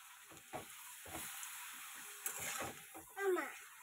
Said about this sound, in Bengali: মেয়ের জন্য এক পিস মাছও ভেজে নিচ্ছি